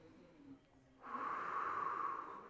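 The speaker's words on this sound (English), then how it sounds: "Back into our breath cycling. Inhale, exhale, twist." Heavy breathing during a recovery stretching workout, a quiet breath followed by a long, loud, steady exhale with a hissing, airy texture that swells and holds for over a second.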